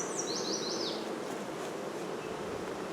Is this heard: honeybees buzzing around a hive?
yes